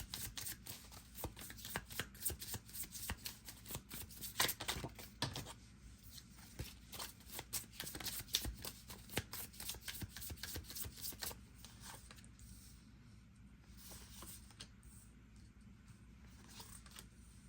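Close, rapid papery slaps and riffles of tarot cards being shuffled repeatedly, busy at first and then thinning out, with no talking.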